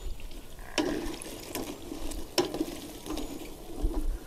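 Garlic seasoning sizzles and fries in a pan while cimol, chewy tapioca snacks, are being cooked, a steady hiss with intermittent crackles and sharp pops, close and moderately loud, with no talking.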